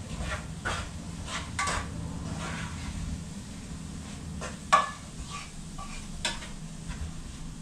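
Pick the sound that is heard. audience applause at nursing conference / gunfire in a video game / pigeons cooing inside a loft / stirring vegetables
stirring vegetables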